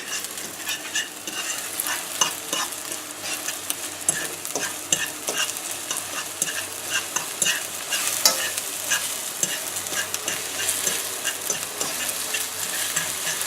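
A spicy omelette of eggs and peppers frying in a pan, a loud steady sizzle close by with constant stirring and scraping strokes throughout, no one talking.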